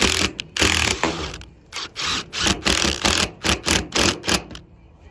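A power driver runs screws into a steel roof plumbing flange, with loud whirring bursts that start and stop in a rapid, uneven rhythm close by.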